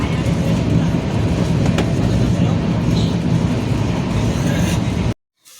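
Steady, loud rumble of a moving train heard from inside a carriage, a continuous dense roar with faint rattles that cuts off abruptly near the end.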